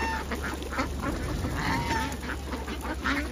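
Ducks in a duck pen quacking repeatedly in overlapping bursts, several birds close by over a constant low background hum.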